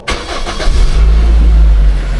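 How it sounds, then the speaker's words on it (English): A Toyota Celica engine cranks briefly and catches, settling into a loud, steady low idle close by, after a power steering fluid leak repair. "Okay, let's start the engine."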